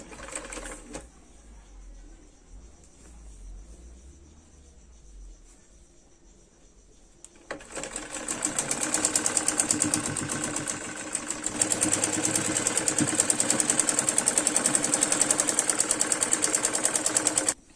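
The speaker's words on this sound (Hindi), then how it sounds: "अब यहाँ पर बेल्ट को रख के सिलाई लगा लेंगे।" Sewing machine stitching a belt onto a Patiala salwar: quiet handling at first, then a loud, fast, steady mechanical stitching rattle running for about ten seconds with a short pause partway.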